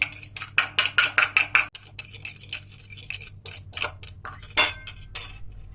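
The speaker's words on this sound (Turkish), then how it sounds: "bir tane yumurta beyazını köpük köpük olana kadar bir çatal yardımıyla çırpalım" A fork whisks egg white in a bowl, making rapid, bright clinking taps against the sides in quick bursts with short pauses, close and clear, with no voices.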